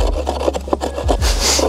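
A Halfbreed Blades LSK-01 knife working through thick wood, giving close, loud rasping scrapes in uneven strokes.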